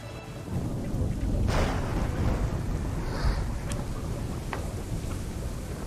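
Heavy rain pours steadily in a video game thunderstorm in Assassin's Creed 3, with low thunder rumbling underneath and a few sharp crackles cutting through the constant wash.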